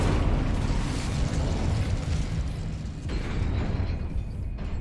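An Incendio fire spell cast in Hogwarts Legacy, a dense roaring whoosh of flame with a rumbling low end that stays loud and steady for several seconds.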